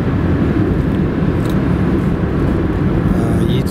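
A car drives along a road near the village of Oktyabrsky on the way to Yeysk, heard from inside as a steady, loud low rumble of engine and tyre noise that never lets up.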